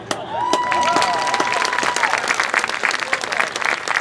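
Audience applause for marching band members' siblings at the Pride of Piqua Marching Band premiere, a dense sustained crowd of clapping with some cheering, steady and fairly loud throughout.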